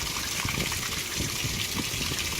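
A 2017 Speed Queen washing machine fills with water, giving a steady, dense rushing and gurgling flow that runs unbroken throughout, close and moderately loud.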